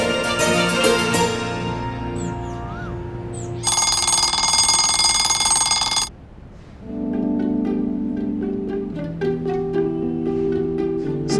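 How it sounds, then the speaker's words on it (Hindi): An alarm rings early in the morning in a home, a loud electronic ringing with bursts of high, bright tones broken by a short pause, then resuming with varied beeping notes. "इतनी सुबह का अलार्म क्यों लगाया भाई?"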